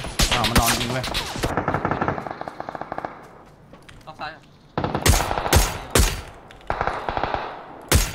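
Loud, close bursts of automatic gunfire from a shooter video game, several separate volleys spaced by brief pauses, with teammates talking in between.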